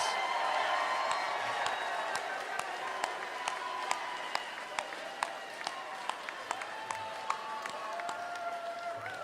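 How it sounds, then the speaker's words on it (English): Sustained audience applause for staff at a disability services day held at a state capitol, a dense steady roar of clapping from a large crowd with sharp individual claps standing out and faint cheering mixed in. "Let's give all the staff a huge round of applause."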